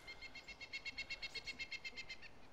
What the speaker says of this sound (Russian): эти птички еще отвлекают